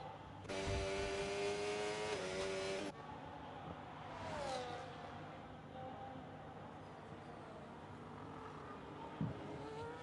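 F1 race car engine in a racing game at the Austrian circuit, a high-pitched whine that drops and shifts as the car slows into the pits, with other engines droning faintly behind.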